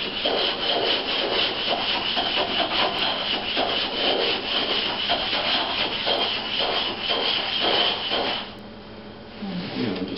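Continuous gritty scraping and rubbing as telescope mirror glass is ground with abrasive grit, rhythmic back-and-forth strokes on a hard surface, loud and close, easing off near the end.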